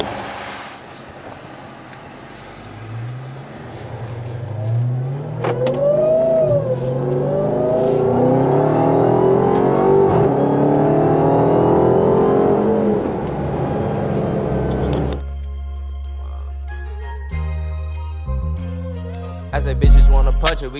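Dodge Charger Hellcat accelerating hard toward top speed, the engine climbing through several gear shifts in a rising, loud roar before music cuts in near the end.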